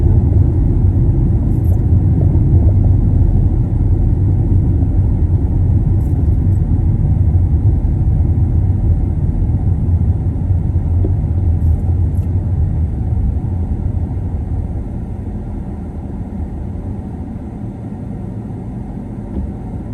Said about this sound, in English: So it's rush hour traffic.